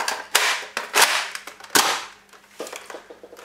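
Sharp snapping pops from a toy gun, fired one at a time at an uneven pace, close and crisp, with no talking.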